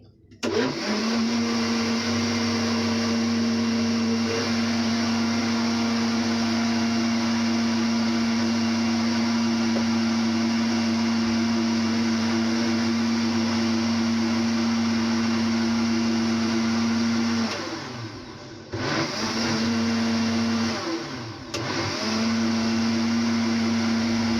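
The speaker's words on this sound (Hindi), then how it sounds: "फिर एक बार और चला देंगे मिक्सी।" A kitchen mixer grinder whirs loudly and steadily with a strong motor hum while blending a shake with milk, briefly dipping twice near the end before resuming.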